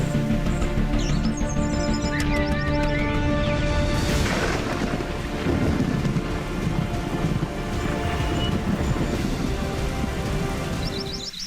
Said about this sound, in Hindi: बारिश की भीगी भीगी बौछारें लगभग पूरे देश में हो रही है